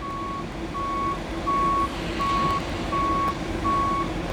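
A truck delivering a swimming pool backs up, its reversing alarm giving six evenly spaced beeps over a steady engine rumble, with no talk.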